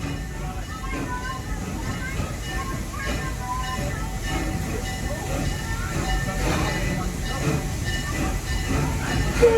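A full tour train at Busch Gardens Tampa rumbles steadily along the rails with continuous low noise and faint clatter, voices murmuring in the background throughout.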